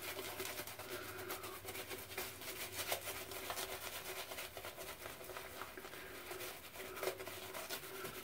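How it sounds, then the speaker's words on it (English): Wholly Kaw Jamestown Gentlemen shave soap is worked into a lather, a quiet, continuous close-up rubbing and swishing with faint crackles throughout. "And let's lather up here."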